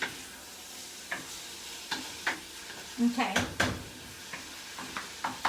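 Ground pork sizzles and spatters in a hot pan, with scattered clicks and scrapes of stirring; a voice speaks briefly.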